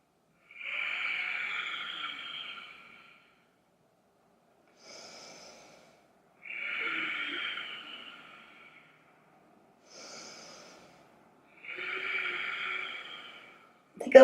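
Slow, deliberate breaths during a yoga warrior two pose, three long airy exhales a few seconds apart with softer, shorter inhales between, close and fairly quiet with no talking.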